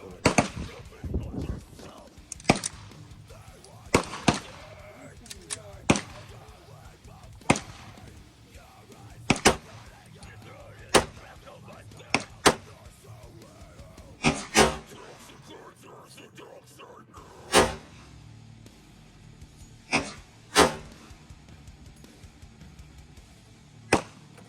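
A heavy, large-caliber handgun with a ten-round magazine fires a series of sharp, loud shots spaced a second or more apart, each a sudden crack, with a person talking quietly between them.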